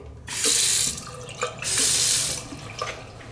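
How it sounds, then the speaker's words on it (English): Hotel bathroom sink faucet in a Paris Las Vegas room is turned on and off twice, producing two close bursts of rushing water splashing into the basin, with handle clicks and drips between them. "This right here is your sink."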